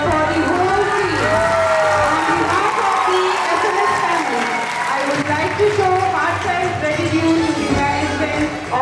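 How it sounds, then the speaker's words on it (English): A crowd at a school annual day celebration claps and cheers loudly, with whoops and excited voices mixed throughout the steady applause. "Please give a round of applause."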